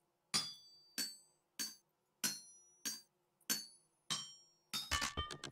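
A hammer in a Minecraft modpack crafts pounder caps, eight sharp metallic clanks in a steady rhythm, the last one breaking into a quick clattering flurry as the worn hammer gives out; no talking.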